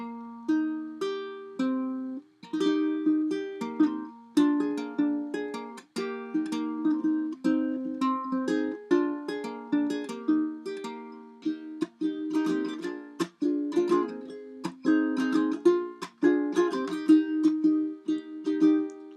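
A cuatro in ukulele tuning is strummed in bright, rhythmic chords, alone and close, with steady repeated strokes and brief pauses between phrases.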